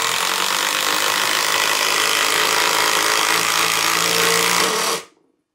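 DeWalt impact driver running flat out in a steady, loud, dense mechanical roar that holds for about five seconds and then cuts off abruptly into silence.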